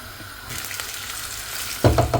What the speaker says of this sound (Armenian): Եվ սա տապակում ենք ձիթայուղի մեջ։